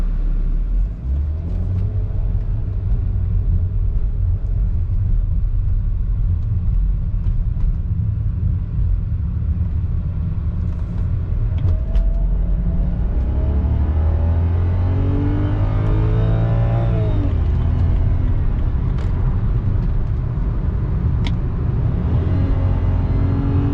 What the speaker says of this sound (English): I'll try to get into an area where it's nice and open so I can floor it a little bit